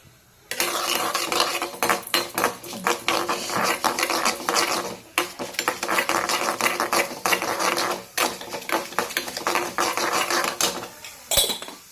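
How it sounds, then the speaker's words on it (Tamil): Mustard seeds with urad dal and chana dal splutter in a hot pan, a dense crackle of rapid pops and ticks that carries on steadily at close range, with no talking. "போட்டு நல்லா கடுகெல்லாம் பொரிஞ்சு வரட்டும்."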